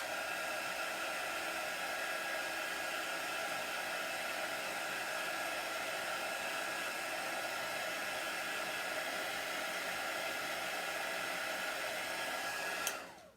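A hair dryer blows steadily on a chalk-paste craft project, a continuous close whooshing roar that holds level throughout before cutting off abruptly near the end.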